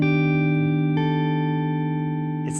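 One sustained augmented major 7 sharp 11 chord rings on a jazz guitar, clean and steady for over two seconds. A second strum re-attacks the chord shortly before it ends.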